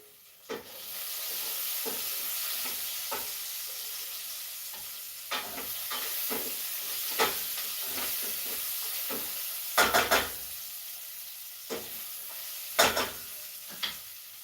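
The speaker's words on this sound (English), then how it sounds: "I'm not paying attention to my onions and they're burning." Onions fry and start to burn in a hot pan, a continuous sizzling hiss punctuated by repeated scraping stirs and sharp spitting bursts, close and fairly loud.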